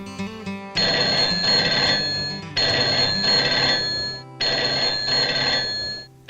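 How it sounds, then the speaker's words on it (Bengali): An old-style telephone bell rings in a Bengali cartoon, three loud, shrill bursts separated by short pauses, with no voices over it. "ও আর ফোন আসার সময় পেল না, দূর।"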